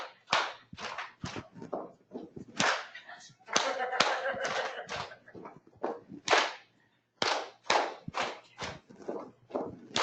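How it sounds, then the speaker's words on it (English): A group claps and stomps in a simple repeated rhythm, a classroom-style pattern of four claps, a stomp and a clap, sharp percussive hits close by with brief gaps between repetitions. "This is a very simple clapping pattern."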